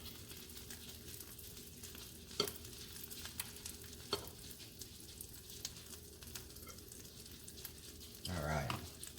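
Ramps fry in a pan, a quiet, steady sizzle broken by a few sharp clicks and a louder scraping stir near the end, with no talking.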